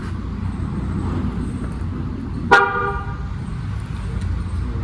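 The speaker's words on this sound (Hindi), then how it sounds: "जो दोनों बटन दबा के रखेगा ना तो आवाज आएगी हॉर्न में से" A Mahindra Scorpio's horn gives one short, sharp toot, set off by its key fob with no one inside, rising clearly above a steady background of traffic rumble.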